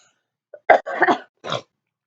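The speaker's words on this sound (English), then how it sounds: "still have a slight bit of a cough" A short cluster of raspy coughs, three or four quick bursts close to the microphone, surrounded by silence.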